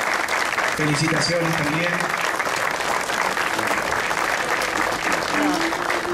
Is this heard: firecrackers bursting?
no